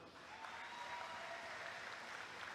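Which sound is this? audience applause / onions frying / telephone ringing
audience applause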